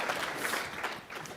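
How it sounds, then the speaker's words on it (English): An audience claps steadily for Carl June at a fireside chat event, a dense round of applause sustained for the whole moment without pause. "I'd like to offer a round of applause for Karl June joining us for today's"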